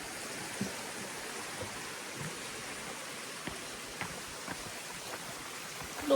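Small creek trickling across a woodland trail crossing, a faint, steady wash of flowing water with a few soft splashes and footsteps close by.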